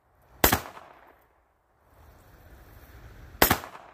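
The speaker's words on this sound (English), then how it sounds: "You're about to see what I'm talking about when I miss four shots in a row." Two loud, sharp pistol shots from a FEG PMK .380 handgun, spaced about three seconds apart outdoors, each a close crack with a short decaying tail over a faint background.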